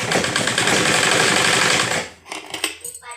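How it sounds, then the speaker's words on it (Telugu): A sewing machine runs steadily, stitching the end of a seam on a blouse, a loud continuous whirring drone for about two seconds before it stops and gives way to quieter handling clicks and rustles. "ఇప్పుడు మనం దీని మీద ఈ చివరిన ఒక స్టిచ్ అనేది వేసుకోవాలండి."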